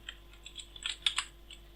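Rapid keystrokes on a computer keyboard while entering JSON code, a light irregular run of clicks building to a few sharper taps, close and alone with no talking.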